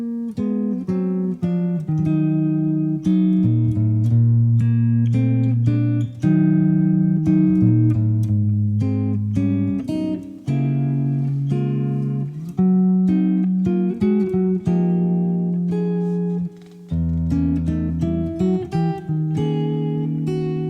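An electric guitar plays contrary-motion scales and comping chords on a jazz standard, clean, sustained notes and voicings moving steadily at a moderate tempo, alone without any talking.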